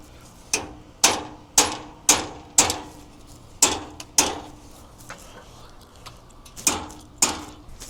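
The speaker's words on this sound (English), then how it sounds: "This is a tad bit bent, but we'll just have to hammer it kind of in there" A bent steel cradle on a Harmar AL301XL hitch-mounted mobility lift is hammered into place, about a dozen sharp metallic blows in an uneven rhythm, close and loud, with a short pause midway before a few more strikes.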